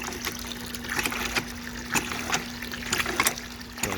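Water carrying sediment flows from a newly drilled shallow well for a hand pump, a steady splashing trickle with a constant low hum beneath and occasional sharper spatters, close by.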